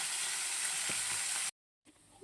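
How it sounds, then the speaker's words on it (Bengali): Steady crackling sizzle of fish frying in hot oil, cutting out abruptly partway, then faint return. "মাছ ভাজা হয়ে যাচ্ছে।"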